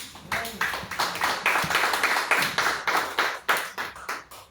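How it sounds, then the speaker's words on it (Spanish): A church congregation claps hands together in a steady rhythmic beat, many hands in unison with repeated sharp claps throughout, lively and fairly loud. "Dale palmas a Jesús."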